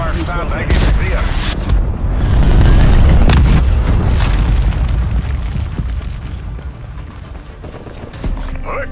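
An enemy cruise missile strike in Call of Duty Black Ops Cold War: heavy booming blasts roll through a dense, sustained rumble with bursts of gunfire, loud and close, easing slightly before a final sharp hit near the end, with voices mixed in.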